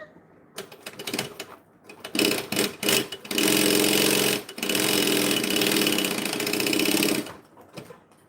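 Sewing machine stitching fabric down near a zipper, a few short starts followed by a loud, close, steady run of rapid stitching that stops briefly and resumes before ending.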